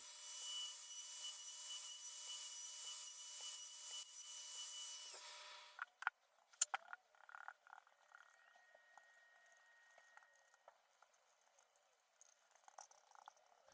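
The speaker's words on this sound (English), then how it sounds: "I'll use a router bit to trim off the" A router bit trims excess wood from a DIY heart-shaped lamp, a loud steady whine for about six seconds that then cuts off, leaving scattered clicks and light handling noises.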